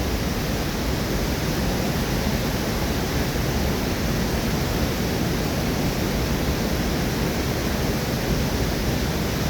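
Steady, broadband roar of falling cascade water, even and unbroken throughout, loud and close with no voices.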